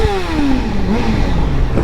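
A Honda CBR motorcycle revs on a cold night ride, its engine note falling while the exhaust crackles and pops loudly and close throughout.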